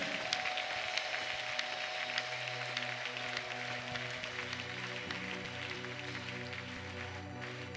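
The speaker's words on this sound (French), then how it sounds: "Applaudis très bien pour le Seigneur." Worshippers at a prayer mass clap together over a quiet sustained musical backdrop. The applause is soft and continuous, with no clear speech.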